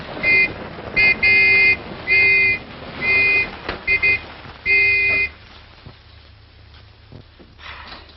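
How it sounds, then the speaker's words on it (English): An old-fashioned motor car approaches on a country road, sounding its reedy horn in a run of short and long toots before the horn stops and the car's sound fades to a faint rumble. "Hey, sounds like another car."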